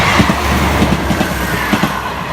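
A British Rail Class 158 diesel unit passes at Kingsknowe level crossing, with a steady loud rumble and a rhythmic clickety-clack of wheels over rail joints, close to the listener and with no voices.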